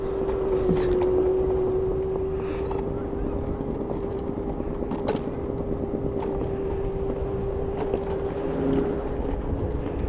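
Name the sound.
scooter accelerating on a city ride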